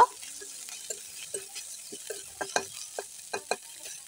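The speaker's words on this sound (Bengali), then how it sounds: "আর দিব রসুন। এখন আমি এগুলোকে খুব ভালোভাবে করে ভেজে নিব।" Garlic frying in a small amount of oil in a pan, with sparse, irregular crackles and pops of sizzling and occasional stirring sounds, close and fairly quiet.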